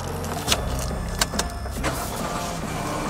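Mitsubishi Xpander Exceed CVT 2022 started by push button inside a hot cabin: a soft click or two, then a low steady engine idle humming on, fairly quiet and even, with no voices.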